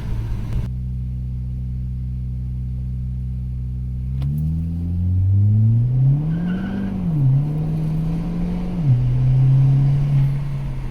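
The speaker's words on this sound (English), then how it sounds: "That's actually the first time from a launch that it's actually done some wheel spin." A 2016–2019 second-generation Chevy Cruze with an upgraded wastegate actuator launching hard with wheel spin, the engine droning loudly and rising in pitch under strong acceleration, with tire noise over a steady, close roar.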